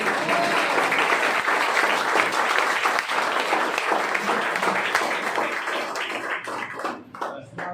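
Applause rises from an audience at a training meeting, thick and sustained for most of the stretch before thinning and tapering into scattered final claps.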